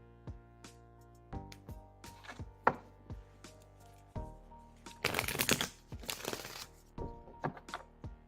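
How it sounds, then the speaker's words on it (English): Tarot cards are shuffled close up: a run of sharp, separate taps and slaps as the deck is cut and squared, then a dense riffling burst, then more scattered taps, quiet and without talk. "I'm going to go ahead and get shuffling now."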